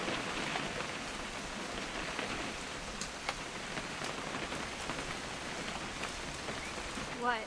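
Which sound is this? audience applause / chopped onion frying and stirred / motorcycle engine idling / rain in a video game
rain in a video game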